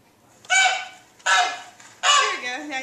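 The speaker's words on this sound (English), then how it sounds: "Now you can hear the goose a lot." Goose honks played through a smart board's speakers: three loud, drawn-out honks spaced about a second apart, close and clear against a quiet room.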